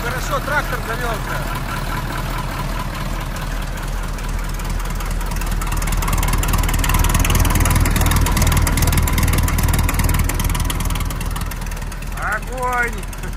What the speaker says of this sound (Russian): трактор завелся